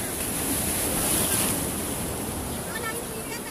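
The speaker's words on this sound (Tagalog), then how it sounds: "Ang lakas ng along." Strong ocean waves off the coast at Salalah, Oman roar steadily with a broad, constant rush of surf and wind noise, close and loud.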